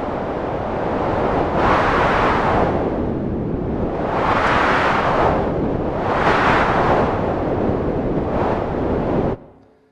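Noisy, windy synthesizer tone from a Haken Continuum EaganMatrix WindBeach preset, a loud broadband hiss that swells and recedes in slow surf-like waves about every two seconds, then cuts off abruptly near the end.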